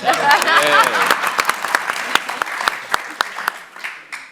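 An audience at a philanthropy forum applauds with dense, loud clapping that thins into scattered claps and fades out near the end.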